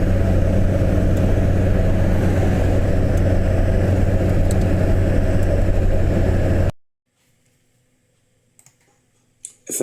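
Traffic and trucks on the M9 motorway near Edinburgh at night make a steady, loud, continuous roar for several seconds, which then cuts to near silence broken by a few faint clicks.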